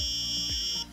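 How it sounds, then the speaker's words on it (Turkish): A small electronic buzzer in a homemade Pinoo moneybox circuit, triggered when it gets dark, gives a steady high-pitched tone for about a second, loud and close, then drops off sharply at the end. "Gördüğünüz gibi karanlık olduğu zaman buzzer'ım ötüyor ve LED'im yanıyor."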